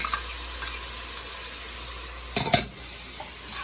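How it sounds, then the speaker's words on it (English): Sofrito and a little tomato sauce sauté in a pan, giving a low sizzle with a couple of brief stirring scrapes and clatters near the middle of the clip, heard up close. "Stir it around so it gets nicely coated and a little brown, not black"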